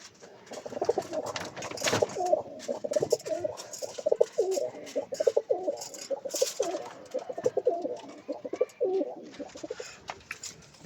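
Pigeons coo repeatedly in soft, throaty bursts close by in a pigeon house, with rustling, wing flutters and a few sharper noises mixed in.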